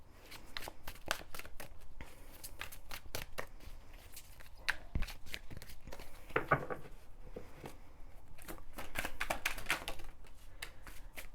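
Tarot cards are shuffled and handled during a love reading, making soft, rapid flicking and riffling taps close by in quiet, irregular bursts with no talking.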